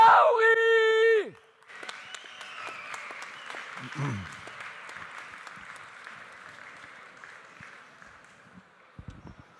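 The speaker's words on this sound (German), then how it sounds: "Da ist ein Applaus" Audience applause fills a hall at the Swiss Coffee Festival, rising after a loud announcement and continuing as steady mid-distance clapping with a brief whoop.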